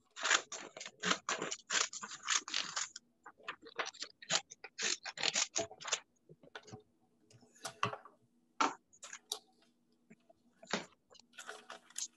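Scissors cut up an old magazine at a craft session in quick bursts of crisp snips and paper rustles, busy at first and then more spaced out, close and clear with no talking.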